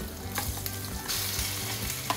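Chicken pieces stir-fried in a wok with tomato and spices, a continuous loud sizzle broken by regular spatula scrapes and clinks, up close with no talking.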